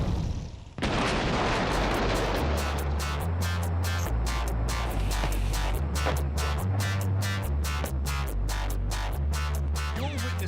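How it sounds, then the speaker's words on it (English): A US military contractor destroys 100 tons of weapons in Iraq: a sudden massive blast erupts, then a loud sustained roaring rumble with repeated heavy pounding pulses. "You're witnessing a US military contractor destroying 100 tons of weapons in Iraq."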